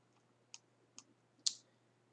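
Three crisp computer mouse clicks sound close and quiet over a faint background hum, the last one the loudest.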